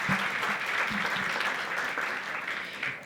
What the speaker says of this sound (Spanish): démosle un fuerte aplauso al licenciado César Manzano